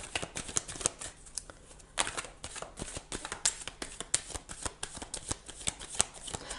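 Tarot cards are handled and laid down on a table during a reading, one card placed over another, giving a run of soft, quick papery flicks and taps, close and quiet, with no talk.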